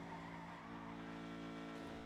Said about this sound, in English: The engine sound.